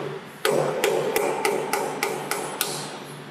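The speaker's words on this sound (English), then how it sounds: "we simply hammer it down until the instruments are flush" Arthroscopic surgical instruments are hammered down flush into bone with about eight sharp, evenly spaced metallic taps over a low steady hum, with no talking.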